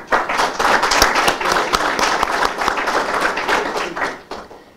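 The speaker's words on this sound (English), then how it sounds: "everybody else can, a little round of applause" A room of attendees claps for guests being introduced, including congressional staff representatives. The applause is close and fairly loud, with crisp individual claps in a brisk, steady wave that fades out at the end.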